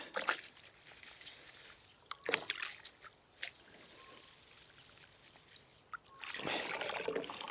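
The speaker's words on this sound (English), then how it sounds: "if you just hold the leeks together and just gently shake them in the water" Leek seedlings held together and gently shaken in a soupy tub of water to loosen the soil, giving faint sloshing and trickling with a few louder splashes, quiet and close.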